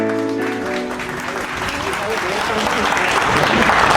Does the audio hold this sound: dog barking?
no